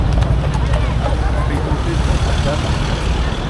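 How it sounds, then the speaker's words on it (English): Small ponies clip-clop past on a city street during a crowded Unite the Kingdom rally, their hooves tapping steadily and fairly close amid traffic rumble, crowd noise and someone talking. "There's these little horses, little ponies."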